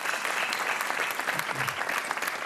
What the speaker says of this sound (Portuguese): Um aplauso para a Anabela Almeida, que é a nossa super joker.